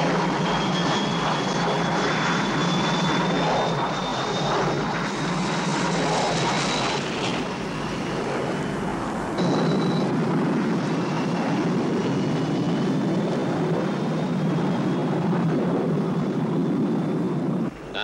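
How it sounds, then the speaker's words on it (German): An American propeller airplane approaches an airfield, its steady engine drone filling the air loudly and continuously, with a faint high whine running above the low rumble. "Amerikanisches Flugzeug."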